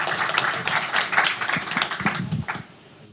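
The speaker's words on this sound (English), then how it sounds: "Please join me in giving them a round of applause." A crowd applauds with dense, steady clapping that fades out near the end.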